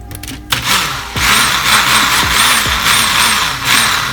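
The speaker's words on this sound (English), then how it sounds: "We're just gonna simply put our blender cap on and just blend it up." A blender whirs through a batch of eggs for a diner-style omelette, starting after a brief clatter and running steadily near and loud for a few seconds with slight pulsing in the motor pitch.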